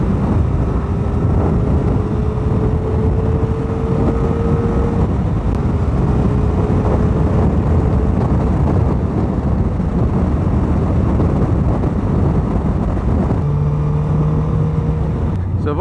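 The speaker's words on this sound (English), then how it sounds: "That Yoshimura can sounds fantastic." Honda Fireblade CBR1000RR sport motorcycle fitted with a Yoshimura exhaust can, a steady loud engine drone with shifting tones and wind rush throughout, as if heard while riding.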